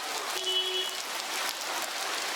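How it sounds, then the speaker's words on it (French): Steady rain pouring onto surfaces outdoors in India, a dense continuous hiss with faint passing tones, holding at an even level. "Mais la pluie commence aussi à s'intensifier"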